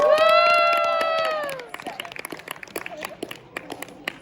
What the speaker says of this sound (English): you guys have a round of applause for Naomi for coming up.